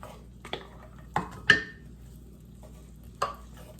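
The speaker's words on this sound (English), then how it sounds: "To this melted butter, I'm going to put 1/3 cup of chopped onion" Chopped onion goes into melted butter for a chicken pot pie. A low, faint sizzle runs under several sharp spoon scrapes and clinks against the pot, spaced unevenly through the clip.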